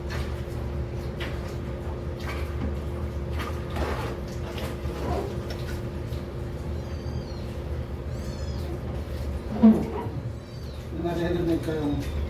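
A cat meows a few times, faint and intermittent, over a steady background hum with distant clatter.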